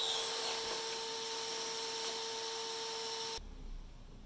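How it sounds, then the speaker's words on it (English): A power drill bores a hole through the top of a bucket for a cable reel, giving a steady, close motor whine that stops abruptly near the end. "we need to drill a hole at the top for the cable to pass through."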